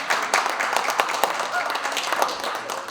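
Audience applause at a celebration as a couple is welcomed, a short burst of scattered clapping heard under someone speaking over it.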